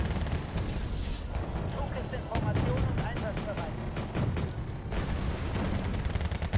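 Battle sounds in the strategy game Wargame Red Dragon: dense, continuous explosions and rapid gunfire rumbling together at moderate volume, with a few sharper bursts throughout.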